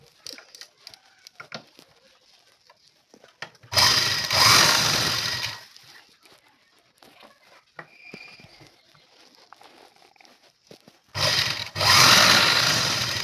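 A sewing machine stitches a blouse shoulder seam in two loud bursts of steady mechanical whirring, close by, separated by quiet handling sounds.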